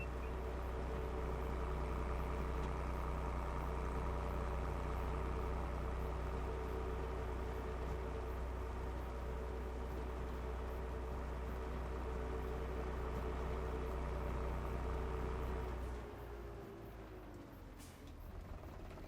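A Steiger tractor engine idles steadily with a deep, continuous rumble while it is parked, then the sound drops and settles lower near the end as the engine winds down.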